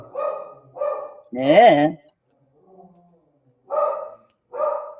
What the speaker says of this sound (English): now she's free and she's barking like mad.